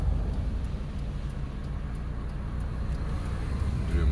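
Cars passing on a road heard from inside a vehicle during a driving lesson, a steady low broadband rumble of traffic without distinct separate pass-bys, no talk.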